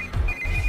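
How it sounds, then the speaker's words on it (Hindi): A telephone ringing with a steady electronic tone, close and clear, over a low background rumble. "इस वक्त दीदी का फोन।"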